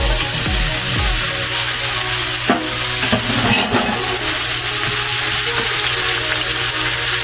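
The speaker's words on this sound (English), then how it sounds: "And then we're gonna put in our mushrooms." Mushrooms for chicken marsala sizzle and fry steadily in a hot pan, a constant loud crackle with occasional stirring scrapes, no talking.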